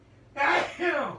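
A single sharp sneeze bursts out close by, a quick intake followed by a loud explosive release, with faint background noise before it.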